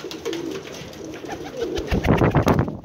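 An Iraqi tumbler pigeon coos softly in low, rolling calls, followed by louder rustling and fluttering near the end.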